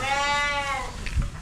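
A single Dorper sheep gives one clear, wavering bleat at close range on a farm during feeding chores, followed by faint shuffling and a soft thump.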